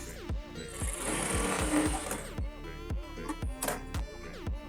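A sewing machine stitches a strip for a padded, embroidered blouse in short bursts of rapid needle clatter, with brief pauses and fabric handling between runs, heard close and fairly quiet.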